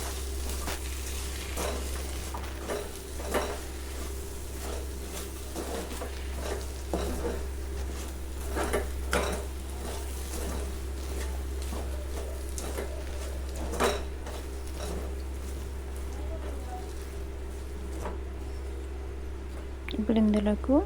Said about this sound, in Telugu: ఇదంతా బాగా కరిగేంత వరకు బెల్లం అంతా కలుపుతూనే ఉండాలి